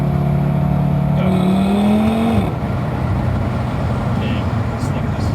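A car accelerates hard from 60 km/h with rolling anti-lag, its engine note climbing steadily before a shift, then a loud continuous roar of engine and road noise close inside the cabin.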